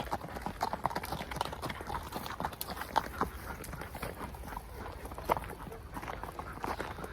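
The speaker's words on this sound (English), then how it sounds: "them two ladies just gone past on their horses." Hooves clip-clop steadily on a hard road as horses walk past, fairly quiet, with faint outdoor ambience.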